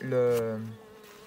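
Honey bees buzzing close by during inspection of a horizontal hive, a loud steady drone that rises briefly and then fades within a second.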